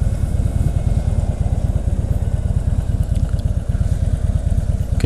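A Harley-Davidson motorcycle rides along on a sunny afternoon, its engine a loud, steady low-pitched throb with rapid rhythmic pulsing, heard close and continuous with no talk.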